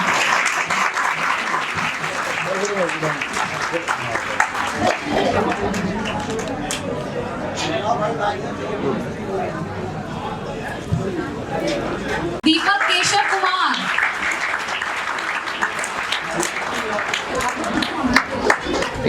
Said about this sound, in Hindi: जोरदार तालियां, मैंने आपको कहा था एप्रिशिएट करना है बच्चों को, जोरदार तालियां।